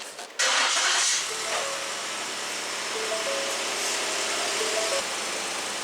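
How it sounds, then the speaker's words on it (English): A 2017 Ford Explorer engine cranks and catches with a loud burst, then settles into a steady close idle with faint whining tones over the hum for the remaining seconds. "Okay, now I'll start the car."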